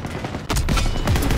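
Burst of rapid gunfire from the video game Call of Duty WWII, loud sharp repeated shots starting abruptly after a brief lull and continuing in a dense fusillade.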